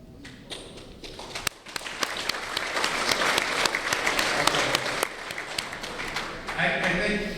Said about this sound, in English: I appreciate you clapping